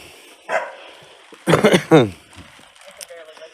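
Dogs barking on a homestead farm: a few sharp, loud barks close by, bunched in the middle, with quieter background sounds around them and no talk.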